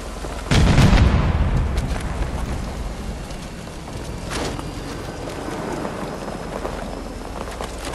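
Heavy gunfire and explosions during a Battlefield 2042 battle, opening with a loud blast near the start followed by a sustained roar of distant shots and booms, with another sharp burst midway.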